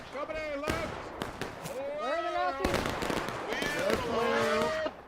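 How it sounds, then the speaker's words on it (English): Musket volleys crack in an American Revolution battle video game, several sharp scattered gunshots over a steady background of game music and ambience, with a voice talking over it. "we'll just watch these guys wait for their next volley fire to begin"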